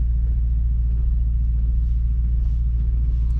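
Mercedes-Maybach GLS Brabus in off-road get free mode, a loud, steady low engine and suspension drone with a faint rhythmic pulsing as the body bounces, close and continuous.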